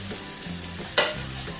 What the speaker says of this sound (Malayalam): ഇതിലോട്ട് ഞാൻ തേങ്ങ തിരുമിയത് ചേർക്കുക.